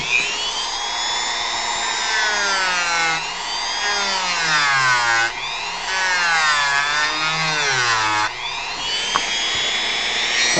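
A rotary power tool whines as it carves a model part for a Final Fantasy V platform's front upper leg, its high pitch rising and falling repeatedly as the load changes, loud and close without talk.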